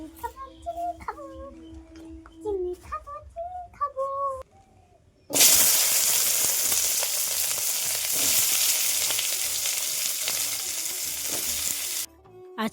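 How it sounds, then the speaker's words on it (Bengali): Vegetables are dropped into hot oil for a vegetable dal, bursting into a loud, sustained sizzle that runs for several seconds and cuts off abruptly, after a stretch of birdlike chirping. "তেলের ওপরে এখন সবজিগুলো দিয়ে দিচ্ছি"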